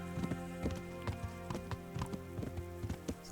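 Horse hooves clip-clop at a walk in the medieval game Kingdom Come: Deliverance, a steady close rhythm of hoofbeats over a low droning musical backdrop.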